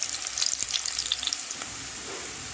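Onions fry in a pan for chicken curry with a bright, close sizzle and crackle and a few stirring scrapes early on, then the sizzle settles to a steady hiss.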